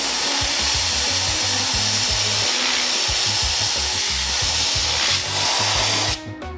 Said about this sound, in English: I filled my air compressor and I'm gonna blow out my pad.